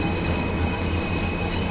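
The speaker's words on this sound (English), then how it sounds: "That was the sound of the gear changing by itself." A steady low diesel rumble inside a diesel multiple unit train carriage, with the engine note shifting slightly as the gearbox changes gear by itself, and no voices.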